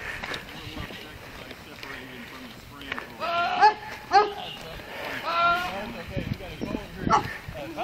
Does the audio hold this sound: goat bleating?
yes